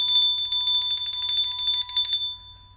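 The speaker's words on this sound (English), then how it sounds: "Yep, I got to ring the bell, Clay." A small bell rung rapidly, a bright, loud, continuous ringing close by that cuts off and fades near the end.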